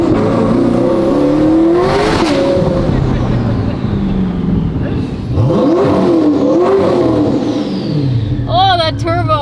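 A 2025 Corvette ZR1 with a turbocharged engine rated at 1064 horsepower revs hard and accelerates, its loud engine note climbing in rising sweeps twice, with turbo whistle and gear changes between pulls.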